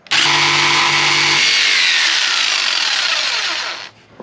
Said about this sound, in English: The trick with the jigsaw is to have enough space in between the material and the bottom part